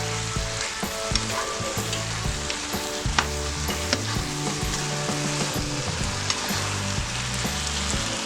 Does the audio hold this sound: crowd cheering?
no